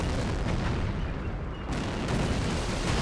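Tank artillery fire in a video game, a heavy booming blast that rolls into dense, sustained rumbling noise, loud and close, with a brief dip before the roar surges again.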